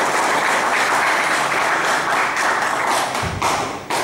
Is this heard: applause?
yes